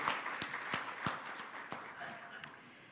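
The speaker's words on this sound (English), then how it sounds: "a huge round of applause for our respected chief guest" Scattered, faint hand claps from an audience welcome a chief guest, the Minister of State for Communications, at an event. Distinct individual claps sound sparse and somewhat distant rather than forming full applause.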